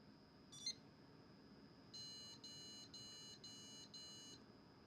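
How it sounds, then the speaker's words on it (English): A gaming desktop computer giving five POST beeps, one short chirp first, then five evenly spaced high electronic beeps in a steady rhythm over a low hum of room noise and fan. "5 beeps it's given me."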